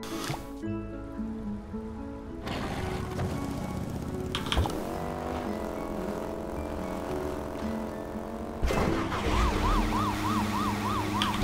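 An ambulance siren in the bridge-building video game Poly Bridge wails with a rising and falling tone over game music and effects, loudest toward the end, with no talk.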